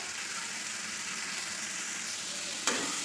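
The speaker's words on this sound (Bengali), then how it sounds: "কাঁঠাল সবজি সিদ্ধ করে রেখেছি, মানে ভাপিয়ে রেখে দিয়েছি, তারপরে এখন রান্না করছি।" Jackfruit curry sizzles and fries in a pan with fried spices, a continuous close hiss of hot oil with a sharp clink of a utensil against the pan just before the end.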